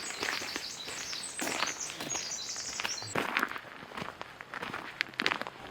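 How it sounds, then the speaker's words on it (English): Birds chirp in the Quinault rainforest, short bright calls scattered over soft footsteps and rustling on a trail, fairly faint and intermittent. "as you walk around you can hear the birds chirping,"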